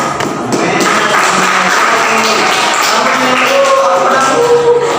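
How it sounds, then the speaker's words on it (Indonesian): Students in a classroom give a teaching-practice lesson a steady round of clapping that goes on for several seconds, with faint voices under it. "Beri tepuk tangan dulu pada"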